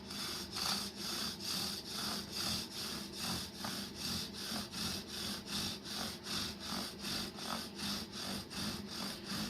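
A thin bow drill spindle rubs against wood in a coastal setting, making a rhythmic back-and-forth scraping squeak with about two strokes per second, close and fairly quiet, with no talking.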